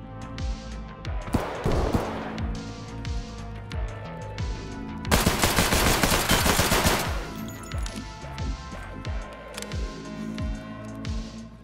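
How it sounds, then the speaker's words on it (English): Gunfire in a shooter video game, Dorms map: sharp repeated shots and automatic bursts, with a dense, loud volley in the middle and scattered shots and impacts around it, fairly close. "I heard a few gunshots"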